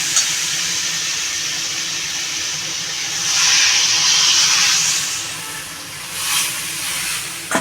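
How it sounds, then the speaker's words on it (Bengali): Water poured into a hot pan of sautéed crab and potato curry sets off a loud, steady steam hiss that swells in the middle and flares once more briefly before settling. "আমি এবার পরিমাণ মতো জল দিয়ে দেবো"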